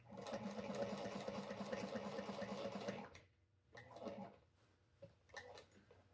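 A Juki 1541S sewing machine stitches in a steady, rapid run for about three seconds, then sews in short separate bursts with pauses between.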